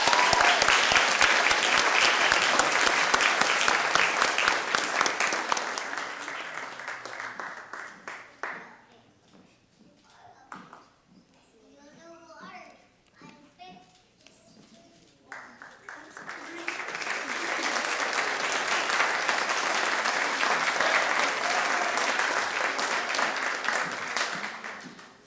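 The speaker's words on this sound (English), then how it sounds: "Let's give a round of applause." An audience at a college graduation ceremony gives a loud, sustained round of applause, which dies down to quiet with a few faint voices in the middle and then swells again into a full, steady ovation.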